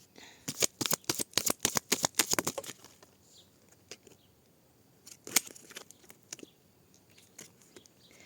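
A deck of tarot cards is riffled and shuffled close up in a rapid burst of crisp flutters, then quieter sporadic card slides and taps follow.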